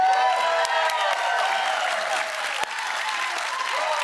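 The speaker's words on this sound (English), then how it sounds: "Half this episode is just everyone clapping for porn." Studio audience applauding a comedy talk show, a dense continuous wash of clapping from a large crowd, loud and sustained throughout, with a brief dip near the end.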